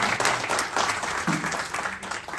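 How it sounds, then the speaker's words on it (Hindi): An indoor audience clapping for itself at a seminar session, a dense, steady patter of many hands at moderate level, slightly uneven with a few louder bursts and no talk over it. "जबरदस्त ताली बजाएंगे अपने लिए"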